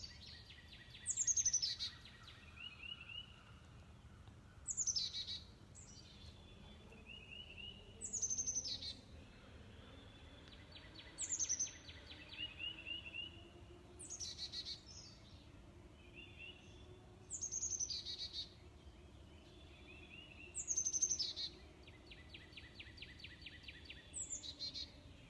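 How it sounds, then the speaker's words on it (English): Bird song repeats in regular phrases roughly every three seconds, bright, high warbling calls over a soft low background hum, moderately distant and clear with brief pauses between each phrase. "The birds know who they are."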